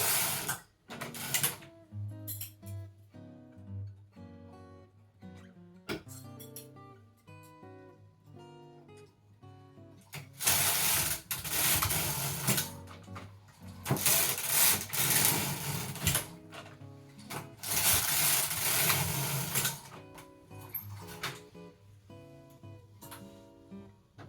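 A domestic knitting machine working a Fair Isle colourwork sample, with its carriage sliding back and forth in repeated mechanical clattering and whirring passes, louder swishing runs in the second half, close by and without talk.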